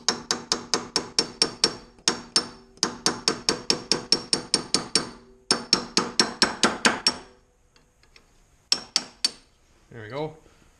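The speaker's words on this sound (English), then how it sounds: "So I'm going to bust that loose with a hammer and a chisel." Sharp metallic taps of a hammer striking a chisel against a car's ride height adjustment collar come in rapid, evenly spaced bursts, loud and close, with pauses between runs and a brief voice near the end.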